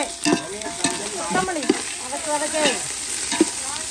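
A paste being sautéed in a pan gives a continuous sizzle broken by irregular stirring scrapes and taps, close and fairly loud, with no one speaking.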